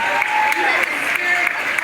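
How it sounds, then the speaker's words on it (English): A studio audience at a televised dance competition claps steadily and continuously after a Paso Doble performance, a dense, even patter of hands throughout. "The audience are clapping."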